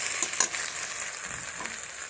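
Spices, aubergine, potato and tomato frying together in a pan, a dense continuous sizzle with soft stirring scrapes, close and steady for a brief moment.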